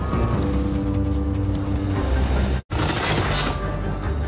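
A car crash in a crime film scene, with a dense, loud mechanical roar and a brief cut to silence, followed by a bright crashing, shattering burst.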